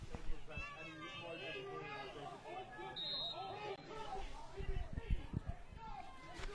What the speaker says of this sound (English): you can hear some of the Somerset faithful barking at the referees